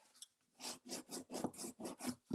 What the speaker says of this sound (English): be sure and use that bone folder to give that good crease